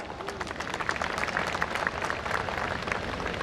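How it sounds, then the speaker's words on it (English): Scattered applause from a sizable audience, moderately distant, with uneven claps rising and falling throughout. "a big round of applause"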